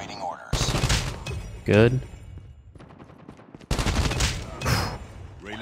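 Gunfire rings out in Call of Duty: Mobile as several loud bursts of rapid automatic fire alternate with short quiet gaps, while a player talks briefly between the bursts.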